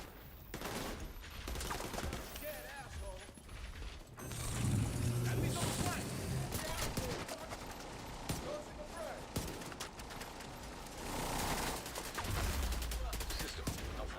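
Gunfire in the video game The Division 2 comes as loud bursts of shots and rapid fusillades mixed with mechanical clicks and ratcheting, with a person talking over parts of it.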